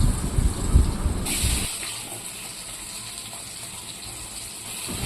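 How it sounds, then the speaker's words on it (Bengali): Cut potatoes go into hot oil in a wok while cooking a vegetable dish with note greens: a loud clattering splash of pieces dropping in gives way to a steady, softer hiss of frying. "কেটে রাখা আলুগুলো দিয়ে দিচ্ছি।"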